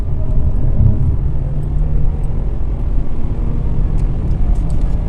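A car engine labours uphill on Montezuma Valley Road, a mountain road, as a steady low rumble that holds loud and constant throughout.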